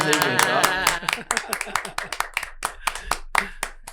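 After a spoken word, an audience at an interview event breaks into a round of rhythmic clapping, sharp distinct claps in a fairly steady beat, near and loud.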